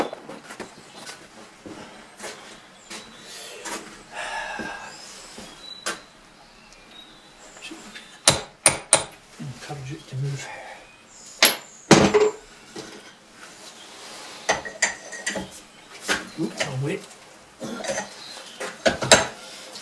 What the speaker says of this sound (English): I'll get a wee socket over the top of that to tap it down a wee